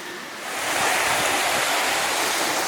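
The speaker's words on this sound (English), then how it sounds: "This is part of one of the Kitsuxis Creek tributaries" A tributary of Kitsuxis Creek flows steadily nearby, a broad continuous rush of water that swells after a quieter first half second and then holds level, with no voices.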